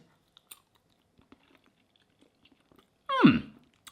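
A single crunchy bite of vintage-recipe Frankaroni, bland macaroni and cheese with a little sauce, lands close and fairly loud near the end after near silence broken by faint scattered ticks.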